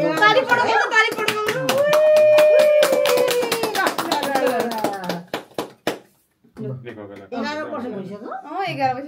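A family claps together to mark an 11th anniversary during a Dashain celebration. A run of sharp, scattered claps sounds under steady talking voices, then stops with a short pause before the talk resumes.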